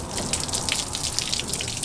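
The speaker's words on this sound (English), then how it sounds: "Obviously got the hose here." Water sprays from a garden hose onto the body of a Ford 7.3 Powerstroke truck, making a steady, close hiss and patter of droplets that runs the whole time with no voices.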